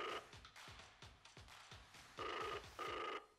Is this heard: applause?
no